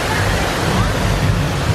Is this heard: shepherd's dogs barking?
no